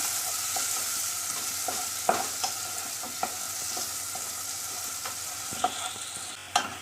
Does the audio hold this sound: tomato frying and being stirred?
yes